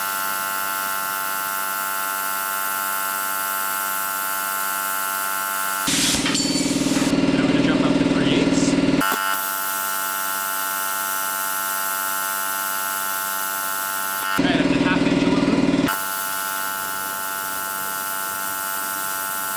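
A plasma cutter slices through 1/4 inch aluminum in two loud hissing bursts, the first about three seconds long and the second shorter, over a constant electrical hum from the nearby machine.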